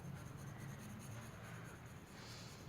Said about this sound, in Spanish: voy a utilizar el lápiz de costado